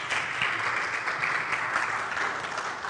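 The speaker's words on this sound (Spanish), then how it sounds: "con un aplauso." An audience applauds to welcome a speaker at a talk, with dense, continuous clapping from many hands, fairly even in level throughout the short burst.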